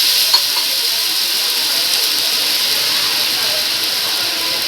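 Spices tempering in hot oil for a Kathiyawadi gathiya curry, a constant broad hiss of frying held at an even level from start to finish.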